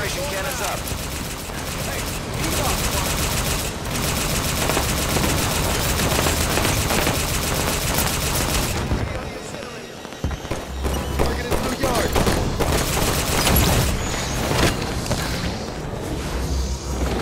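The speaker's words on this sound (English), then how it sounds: "Incineration cannon in 10 seconds." An incineration cannon firing during a big-team capture-the-flag match on Basin in a video game: dense, rapid bursts of loud blasts and crackling fire for several seconds, a brief lull, then more heavy booming shots close by.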